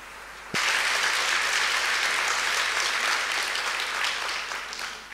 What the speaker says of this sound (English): The applause go to her, and I'd like to congratulate her.